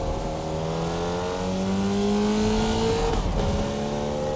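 Formula Vee race car in the iRacing sim, its small Volkswagen Beetle-derived engine droning steadily as the revs climb, then a brief dip near the end as it shifts, with no talk.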